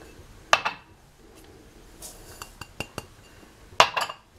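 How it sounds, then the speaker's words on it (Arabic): Semolina flour being tipped into a bowl while preparing basbousa, heard as a few sharp clinks of the container against the dish with quieter rustling and small taps between them, close by with no talking. "اول حاجه بندخل دقيق السميد اهو في الطبق"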